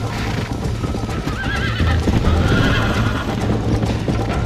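Horse hooves clop in a fast galloping rhythm while a horse neighs, loud and close, with a game-like music bed underneath, from Red Dead Redemption.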